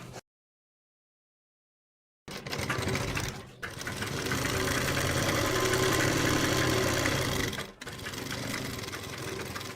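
A sewing machine stitches the leg seam of an Afghani salwar, running in loud rapid bursts after a short silence, with brief pauses between stretches of stitching.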